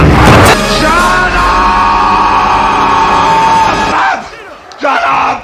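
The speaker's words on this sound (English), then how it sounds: "Crowd is going bananas!" A wrestling video game crowd from WWF Attitude roars and yells loudly and continuously for about four seconds, then drops away, followed by a short burst of shouting near the end.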